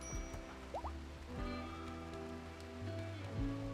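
Game rain falls steadily in a soft, continuous patter with scattered drips, layered over a low ambient hum and tonal in-game sounds; no one speaks.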